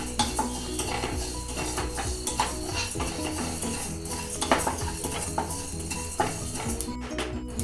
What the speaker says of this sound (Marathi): जिरं, तीळ, बडीशोप, धने आणि हे भुजून घ्यायचे. हे अगदी मंद आचेवर भुजायचे.